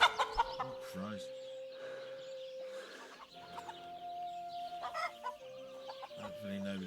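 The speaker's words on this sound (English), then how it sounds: "I've just stolen a chicken." A stolen chicken clucks in Kingdom Come: Deliverance 2, with a run of short, choppy clucks and squawks scattered across several seconds over steady game music, close by.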